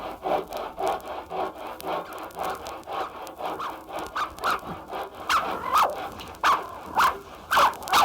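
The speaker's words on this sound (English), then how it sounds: "It's only Mr. Minton sawing wood." A hand saw cuts through wood with steady back-and-forth strokes that grow sharper and more pronounced toward the end, fairly close and alone, with no one speaking.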